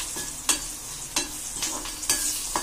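Urad dal tempering sizzles in a hot pan, a steady soft frying hiss broken by a few sharp stirring scrapes at regular intervals.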